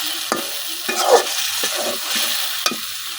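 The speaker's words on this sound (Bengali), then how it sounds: "এদিক দিয়ে আমার মাছগুলো কষানো হয়ে গেছে।" Fish being sautéed in a pan, a continuous sizzle broken by several sharp scrapes and clacks of stirring, close and fairly loud, with no talking.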